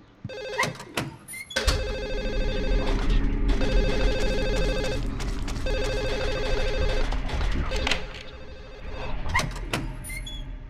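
Telephone ringing inside the Silent Hill 4 video game, a loud repeating electronic bell in steady bursts with short gaps, heard alone without talk.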